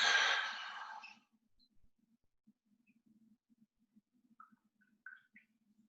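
A deep, forceful breath pushed out through the body during a yoga detox breathing exercise, a single long exhale lasting about a second, followed by quiet with faint soft clicks.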